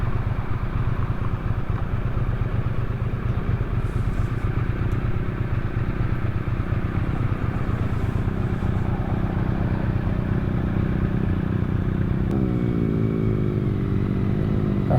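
A Triumph Bonneville T100 motorcycle rides along with a steady, loud low engine drone and road rumble throughout, with a brief shift in engine pitch near the end.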